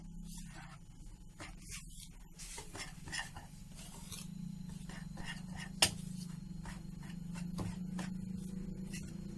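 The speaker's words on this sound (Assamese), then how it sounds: "মিক্স কৰি ল'ম" Sugar is stirred into eggless rice-flour cake batter with a spoon, giving soft, faint scraping and rhythmic clinks against the bowl, with one sharper tap midway.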